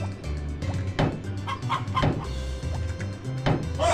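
Chickens cluck repeatedly in the farming video game Harvest Moon: Back to Nature, a looping chorus of fowl calls with periodic louder squawks set against a steady game backdrop, no voices.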